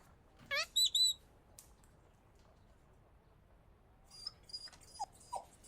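A dog in the Sherlock vs Jack the Ripper video game gives a few sharp yelps and whimpers, a quick burst, then softer scattered yips after a quiet stretch.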